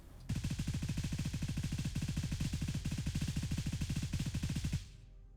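A DDM4 rifle on full auto with a 60-round magazine in the video game Gray Zone Warfare rattles off one long, unbroken stream of rapid shots for about four and a half seconds, then stops abruptly.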